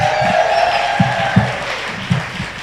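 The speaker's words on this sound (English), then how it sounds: "Come on, give a round of applause." An audience at a TEDxDesoto event applauds loudly. A few distinct claps stand out over a steady crowd roar, with some cheering mixed in.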